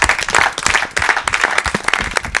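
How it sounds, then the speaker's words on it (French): An audience claps loudly and steadily, a dense close wash of many hands applauding at once throughout. "Allez, on applaudit très très fort."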